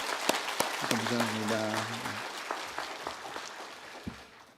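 A church congregation claps in welcome, a steady wash of applause fading gradually over a few seconds while someone briefly speaks over it.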